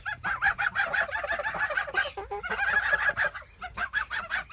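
Repeated loud honking from a goose, nearby and insistent, in bursts of harsh cackling calls with short pauses, among other poultry on a smallholding.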